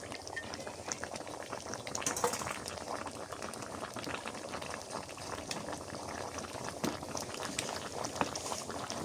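A mixed-vegetable curry bubbles steadily in a pot, with soft continuous boiling pops and gurgles, fairly quiet and without voices.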